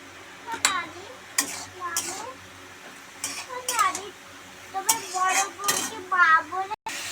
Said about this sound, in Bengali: পেঁয়াজটা আর চিকেনটা দেখো একটু ভাজা ভাজা অনেকটাই হয়ে গেছে।